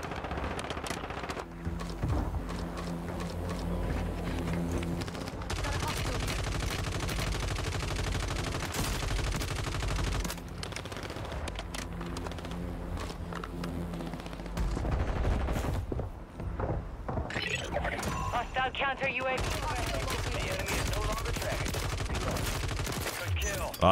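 An MP40 submachine gun fires in rapid automatic bursts in a first-person shooter video game, with repeated loud rattling volleys that alternate with brief pauses and some faint talk in the background.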